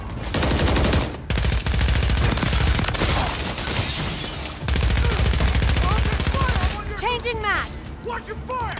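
Rapid automatic gunfire from a Call of Duty firefight rattles on loud and dense throughout, briefly dropping out twice, while voices call out over the shooting.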